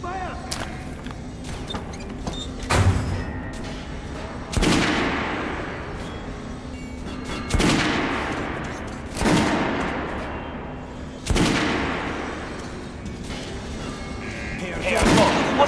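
Gunfire and artillery volleys in the Metro Last Light Redux shooter game, a series of loud booming blasts roughly every two seconds, each trailing off in a long echoing decay, with shouted voices at the start.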